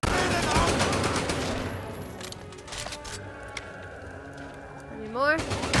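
Dense gunfire in the video game Medal of Honor Above and Beyond, a burning-building level: rapid bursts crackle loudly at first, then thin into scattered shots under a speaking voice.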